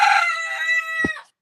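A rooster crowing in the morning, one loud, close, drawn-out call that trails off after about a second, followed by a brief soft thump.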